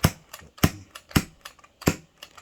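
Bernzomatic propane torch igniter clicking repeatedly without lighting, six or so sharp close snaps at uneven intervals over a couple of seconds, alone.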